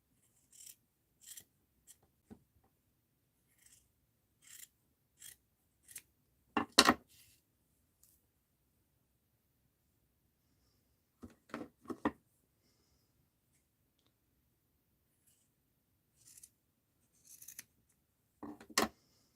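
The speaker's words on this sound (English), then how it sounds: "I think I'm going to have to cut this down a little" Scissors snip paper to trim a paper doll for a mixed-media art journal, a series of faint, sparse, crisp cuts, some in quick pairs, separated by long near-silent gaps, with one louder snip around the middle.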